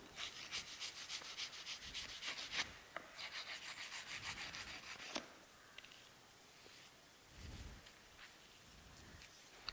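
A strike-off bar scrapes across moulding sand in a moulding box while a sand mould is prepared for a split pattern. The rough rasping strokes come close and fairly quiet, then give way to softer rubbing and a few low thuds.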